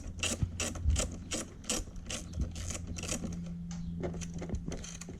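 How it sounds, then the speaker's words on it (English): A 10mm socket ratchet loosening the negative battery terminal bolt on a Mustang S550, rapid close clicking in quick bursts, then a steadier ratcheting run, no talk. "A 10mm socket to the negative terminal will do the trick. Go ahead and loosen that on up."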